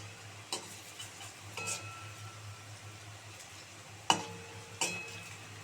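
Red cabbage fritters fry with a low sizzle in a wok while a utensil flips them, giving a few sharp clinks and scrapes over the steady background hiss, close up with no speech.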